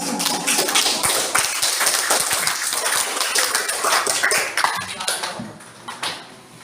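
A group of students in a classroom breaks into applause, a dense patter of many hands clapping that fades off toward the end.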